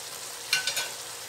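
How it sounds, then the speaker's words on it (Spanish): Seasonings and chicken for Venezuelan arroz con pollo sauté in a pan, a soft steady sizzle with a couple of brief louder stirring scrapes. "Ya ha sofreído todos los aliños, incluso el pollo"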